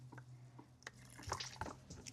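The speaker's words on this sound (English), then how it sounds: "but I can definitely hear it dripping" Coolant dripping slowly from a leaking Ford Escort cooling system, a few faint separate drops over a steady low hum, close by with no talk.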